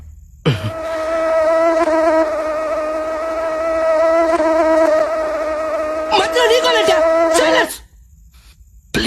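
A mosquito whines in a bathroom, a close, steady high-pitched buzz that drones for several seconds, wavering near the end before stopping abruptly.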